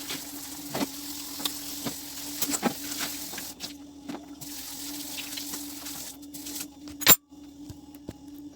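A carrot, tomato, sweet pepper and cucumber are washed under running tap water, a steady stream with splashes and handling clatters, closer bursts at intervals.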